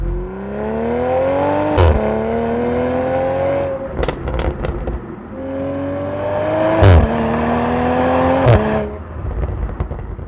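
A Toyota Supra engine drones and revs through its exhaust while driving, pitch rising through gears with brief dips at shifts, steady and fairly loud throughout.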